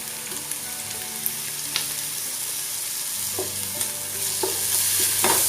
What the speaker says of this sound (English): Now I am adding the ginger garlic paste.